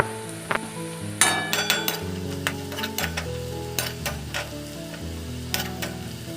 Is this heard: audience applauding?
no